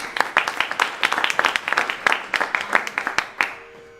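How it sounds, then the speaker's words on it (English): An audience at a music and talk event claps steadily for a few seconds, the applause thinning toward the end. "Round of applause for Tom, please."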